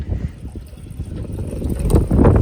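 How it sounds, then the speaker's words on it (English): Wind gusts buffet the microphone outdoors beside a homemade rain barrel, a rough low rumble that swells and grows louder toward the end, with no talking. "as you can see, it's windy"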